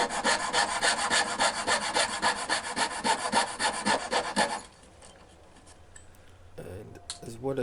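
Wood being filed or rasped to fit a chess box, a steady rhythmic back-and-forth scraping with dozens of quick strokes for about four and a half seconds, then quiet with a faint tool clink.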